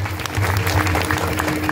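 Audience clapping at a Ram Navami week-long gathering in a Vitthal temple in Hupari, a dense, loud burst of many hands applauding together for under two seconds, with a faint voice underneath.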